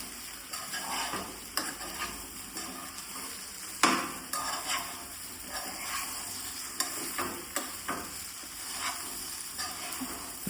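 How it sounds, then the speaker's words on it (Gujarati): Dudhi muthiya (bottle gourd dumplings) stirred in a pan on the stove, with steady scraping and stirring strokes over a soft sizzle, close and continuous, with an occasional sharper knock of the spoon against the pan. "બધું બરાબર મિક્સ કરી લેવાનું છે."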